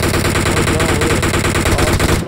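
Loud, continuous gunfire from a sniper rifle in the mobile game PUBG played on an iPhone 8 Plus, a dense rapid stream of shots that fills the whole moment and then cuts off abruptly.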